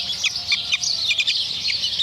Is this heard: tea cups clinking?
no